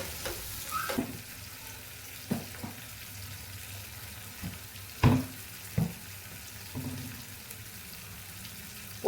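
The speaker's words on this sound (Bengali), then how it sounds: "ক্যাপসিকাম টমেটো আদা সেগুলো বাটারে ফ্রাই হচ্ছে" Tomato, capsicum and ginger fry in butter with a soft, low sizzle, broken by several sharp clunks and scrapes of a spoon against the pan.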